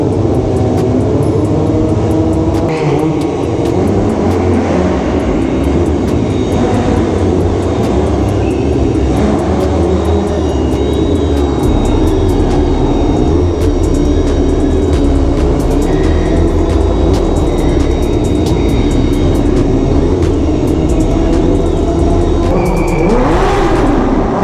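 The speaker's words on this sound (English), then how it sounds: "We're literally in a prison doing wheelies." Motorcycles roar loudly inside an enclosed prison building while doing wheelies, the revving engines echoing off hard walls in a constant, dense wash of noise with rising and falling throttle bursts.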